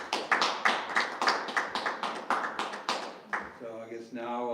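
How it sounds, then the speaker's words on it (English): A small audience claps for Steve after a talk, giving a brisk round of separate hand claps that fade away, followed by a voice speaking. "let's give Steve a round of applause"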